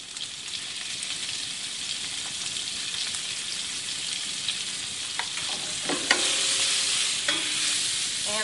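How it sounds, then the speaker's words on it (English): Seasoned shrimp sizzle and crackle in hot oil, a steady close frying hiss with a few stirring clinks and scrapes of the utensil toward the end and no voices. "I'm gonna add the shrimp in the oil"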